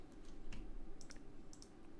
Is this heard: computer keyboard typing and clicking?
yes